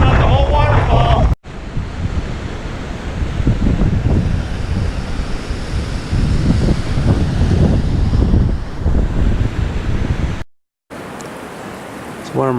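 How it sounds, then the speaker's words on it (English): Strong, steady wind buffets the microphone near Gocta waterfall in Peru, a loud continuous roar with brief cut-outs, while a person speaks briefly at the start. "Wind coming from the water, I think."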